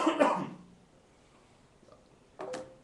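At a panel discussion, a person coughs in a quick, rough burst at the start, followed by quiet and then a shorter throaty cough near the end, both fairly soft and close.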